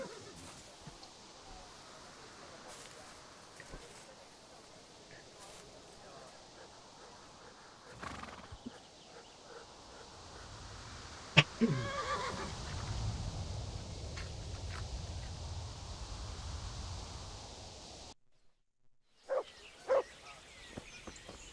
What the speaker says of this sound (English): Damn, these are good horses.